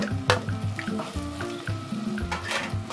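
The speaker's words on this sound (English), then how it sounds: "So I'm going to add my mixed vegetables to my stew" Mixed vegetables stirred into a bubbling stew for couscous: close sizzling and frying with spoon scrapes and irregular clunks of stirring, steady and without talk.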